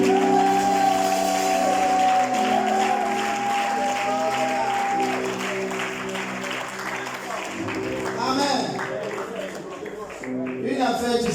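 A church congregation in Paris applauds and cheers in a long, dense swell of clapping, with sustained music tones underneath and voices rising toward the end.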